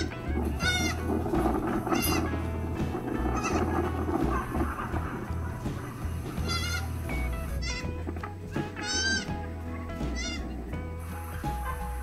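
Goats bleat again and again in short wavering cries as one chases another, some calls near and some farther off, over a steady low background rumble.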